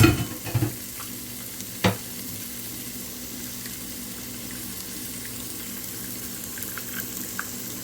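Garlic sautés in olive oil in a pan, giving a steady, even sizzle throughout, with a few louder clatters of a utensil stirring near the start.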